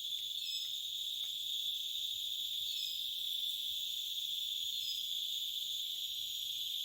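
Dense, steady cricket chorus at dusk in rural Jamaica, a continuous high shrill trill with a few brief chirps layered on top, no voices present.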